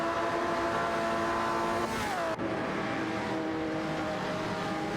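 Race cars in an AI racing video game, including a 1969 Pontiac GTO, roar with sustained engine drone that dips and shifts pitch as a car changes gear, steady and moderately loud throughout.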